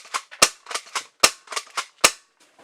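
Game Face airsoft Voodoo tactical shotgun firing rapid follow-up shots: three sharp loud snaps interleaved with quicker rattling clacks of the action, a fast uneven rhythm close to the microphone.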